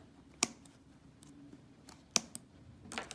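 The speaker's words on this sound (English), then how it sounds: "And then I just go between here and I cut these strands as well." Scissors cut through strands of crochet yarn while a beginner's mug rug is trimmed: a few crisp, close snips, two near together and one a little later, with quiet handling between and no talking.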